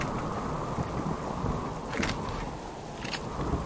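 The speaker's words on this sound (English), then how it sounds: "Yeah, this storm is very loud." A thunderstorm in the survival game Subsistence rumbles in a steady low roar with rain, and a couple of brief crackling bursts stand out above it, with no talking.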